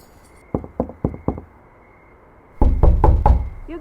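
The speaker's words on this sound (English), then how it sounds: "You knock on the door." Four sharp knocks on a wooden door, evenly spaced and close, followed after a pause by a louder, heavier burst of knocking, staged as a radio drama sound effect for a Lone Ranger episode.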